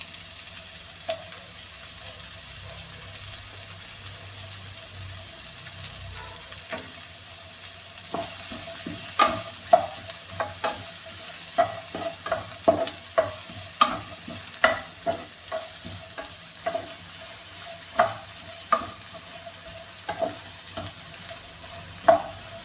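Onion, carrot and other vegetables are stir-fried nonstop over a high flame for restaurant-style noodles, with a constant sizzle and frequent rhythmic scrapes and clanks of the spatula against the pan.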